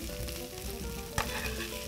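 Small bread-crumb-like pieces fry until golden in a pan for a squash and tomato salad, producing a steady close sizzle with one brief louder crackle partway through.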